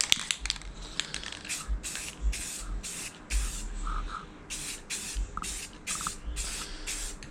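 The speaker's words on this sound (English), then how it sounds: "Just a light dust on the first coat. We want this paint to stick forever." A spray can lays a light dusting coat of paint on a classic Chevrolet-themed key cabinet in a series of short, sharp hissing bursts at close range, with pauses and faint handling knocks between them.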